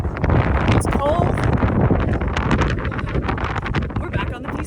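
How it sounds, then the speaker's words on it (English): Gusty wind buffets the microphone with a loud, rushing roar while a person talks over it. "It's windy, it's cold."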